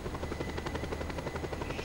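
An attack helicopter in the video game Just Cause 2 drones steadily with a constant, fast rotor thump and engine whine, loud and continuous.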